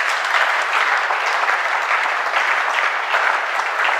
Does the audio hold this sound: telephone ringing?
no